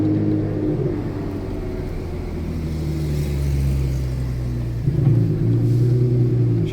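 A car engine revs nearby, a deep rumbling hum that rises and falls in pitch and swells again near the end, with no talking.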